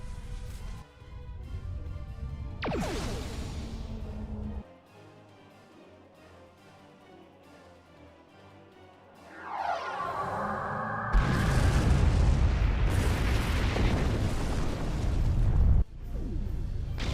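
Starship weapons fire and a heavy explosion in the Star Trek Online space game, with whooshing energy bursts, deep booms and a loud rumbling blast that builds and sustains over many seconds, alone without talk.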